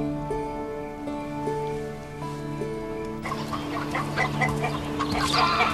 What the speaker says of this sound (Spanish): Sus gallinas son muy simpáticas y sociables.